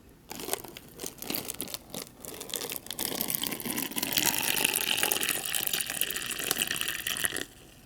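Water poured from a bottle into a foil MRE cocoa beverage pouch, a steady trickle rising to a fuller splash with crinkling of the bag, then stopping abruptly near the end.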